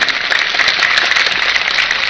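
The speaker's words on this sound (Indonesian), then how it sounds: "Kita berikan tepuk tangan yang luar biasa untuk beliau." A large crowd at an open-air Islamic tabligh akbar gathering in Puyung, Central Lombok claps for the village head, producing a steady, dense wash of applause for a couple of seconds.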